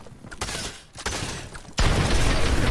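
Fortnite squad gunfire in a loud rapid burst, a few separate shots followed by a dense sustained volley at the end.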